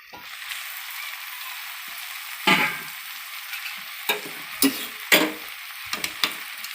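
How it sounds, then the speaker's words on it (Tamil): Vegetables for a chapati stuffing are sautéed in a pan under a continuous sizzle, punctuated by several sharp scraping strokes of the spatula, close and clear. "நல்லா வதக்கி விடுங்க"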